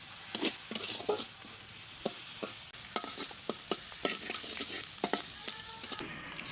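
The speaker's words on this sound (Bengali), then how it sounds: "শাকগুলো তেলে দেওয়ার জন্য রসুন, পেঁয়াজ, এই যে কাঁচামরিচ ভেজে নিচ্ছি" Garlic, onion and green chillies frying in oil, a steady sizzle broken by regular scraping strokes of a stirring spoon, close and clear with no voices.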